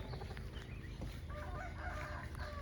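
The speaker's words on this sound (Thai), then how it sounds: "ไก่ชนนะครับ" Fighting cock rooster crowing on a farm where cattle are kept, heard faintly at a distance over steady background noise, with a few drawn-out calls.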